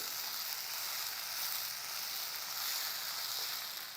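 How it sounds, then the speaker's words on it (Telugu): Ginger garlic paste frying with onions in a pan for a masala rajma curry gives a continuous, even hiss and sizzle at moderate volume with no talking. "ఉల్లిపాయ బాగా వేగాక ఇందులో కొంచెం ఒక పెద్ద స్పూన్ అల్లం వెల్లుల్లి పేస్ట్ వేద్దాము"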